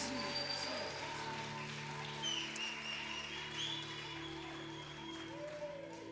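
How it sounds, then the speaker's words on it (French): A church congregation claps and applauds for Jesus during a Sunday service, with a steady, dense wash of hands across the room, not too close, and faint voices and cheers mixed in underneath. "Give a hand to Jesus."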